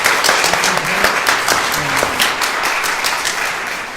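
A church congregation at an anniversary thanksgiving service claps together in loud, close, sustained applause, with a few voices faintly audible underneath.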